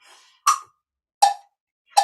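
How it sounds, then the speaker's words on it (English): Three sharp percussive metronome clicks about 0.75 seconds apart, each brief and bright, sounding alone in a quiet room. "Shall we give it a go with the metronome?"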